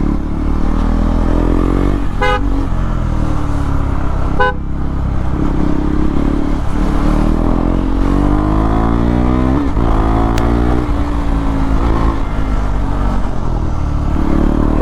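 A KTM Duke 390 fitted with an SC Project CR-T exhaust is ridden on the road, its loud engine note rising and falling through revs, with brief horn toots from traffic.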